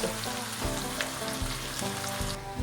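Chopped onions sizzle and fry steadily in hot oil in a pan, a dense continuous crackle with occasional stirring bumps, close and alone without voices.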